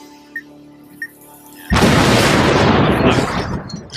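A bomb in a bomb-defusing video game explodes in a single loud, close blast that rolls on as a long, noisy rumble after two faint beeps.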